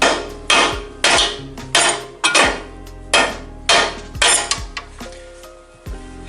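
Close metallic hammer taps on a steel nut threaded onto a bolt during steering rack work, about a dozen sharp strikes in an uneven rhythm with ringing decay, no voices.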